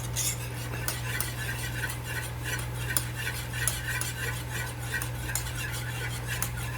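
Butter and vanilla extract get stirred in a pot, a spoon scraping and clinking against the metal in quick, repeated strokes over a low steady hum.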